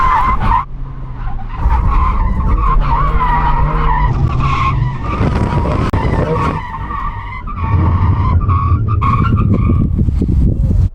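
A first-generation Mazda Roadster brakes hard in a drag-race brake test, with loud, close tyre screeching lasting several seconds over the engine note and a second skid following shortly after.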